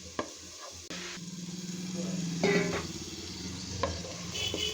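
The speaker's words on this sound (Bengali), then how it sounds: "নাড়াচাড়া করে দিচ্ছি।" Ground coriander, turmeric and chili powder are stirred and fried in a pan for a prawn and pumpkin curry, a soft sizzle under occasional scrapes and knocks of the spoon, close and fairly quiet.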